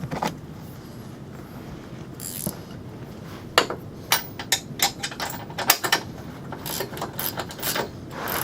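Ratcheting wrench clicks tightening Torx bolts on Nerf bar brackets for a 2020 Polaris RZR Turbo, close and moderately loud, coming in short, quick bursts of metallic clicks after a quieter start.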